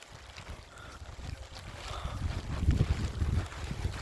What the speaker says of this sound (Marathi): सुसाट वारा पाऊस